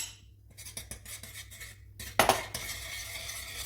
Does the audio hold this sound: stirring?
yes